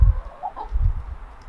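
Backyard pet hens on a small farm cluck softly in short low bursts, a couple of brief higher clucks in between, close by and without any talking.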